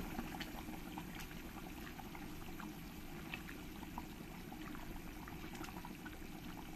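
Water at a steady boil in a pan while tel koi fish curry is being made, giving a continuous, even bubbling and rushing hiss throughout, fairly faint, with no talking.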